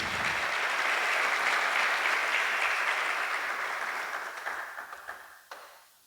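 A church congregation bursts into a full round of applause, holding steady and dense for several seconds, then thinning into a few scattered claps as it fades out.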